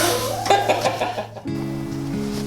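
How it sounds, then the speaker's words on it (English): Chickens cluck in short bursts at close range in cold weather, followed by a steady low drone that continues underneath. "here's some spoiled chickens there"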